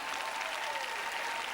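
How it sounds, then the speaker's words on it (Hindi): An audience applauding during a sermon, a continuous wash of many clapping hands at fairly low, even level, without a voice over it. "आप तालियां बजा रहे हैं"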